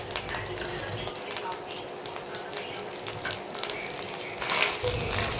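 Green chilli, ginger paste and turmeric frying in a pan, a continuous close sizzle with crackling bursts and stirring scrapes, growing louder toward the end.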